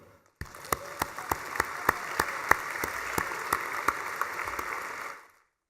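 Applause from an audience at a Hall of Fame induction ceremony, greeting Mike Penny; a steady clatter of clapping with sharp individual claps standing out, lasting about five seconds before stopping abruptly.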